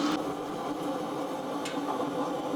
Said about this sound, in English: And we've got the Bayou deep fryer cranking up for the calamari.